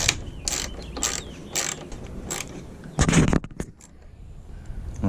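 A ratchet wrench removes the top bolt of a tailgate plate on a 2018 Ford F150, clicking in quick repeated bursts of strokes with one louder flurry partway through, heard up close and without speech.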